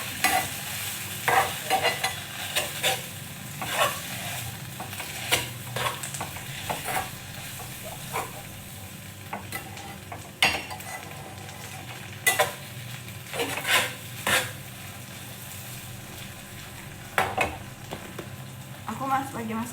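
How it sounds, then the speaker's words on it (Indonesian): Corned beef fries in butter and is stirred in a pan, with a steady sizzle broken by repeated sharp scrapes and knocks of the utensil against the pan. A voice talks at times over the cooking. "Aku lagi masak cornet"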